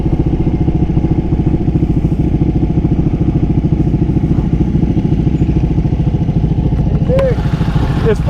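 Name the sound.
Ducati Panigale motorcycle engine while riding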